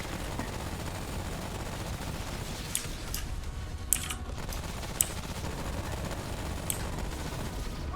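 Gunfire of bullets in Remnant: From the Ashes, a handful of sharp, fairly faint cracks spaced irregularly over a steady rumbling background, with no voices during the shots.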